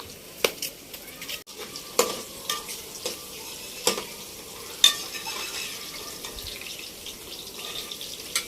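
Okra (bhindi) frying in oil in a pan on a village stove while a spatula scrapes and stirs it, with soft steady sizzling and sharp irregular clanks and scrapes up close, no talking.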